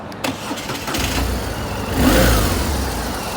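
A 2007 BMW R1200R fuel-injected boxer twin motorcycle runs steadily up close, its engine note swelling in a brief rev near the middle before settling back to a steady idle-like drone.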